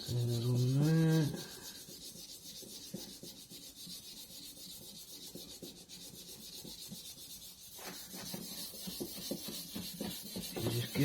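Steady hand rubbing as a Delkevic exhaust system on a Honda VFR800 motorcycle is polished in circles, a soft continuous scuffing close by that follows a brief tonal sound at the start.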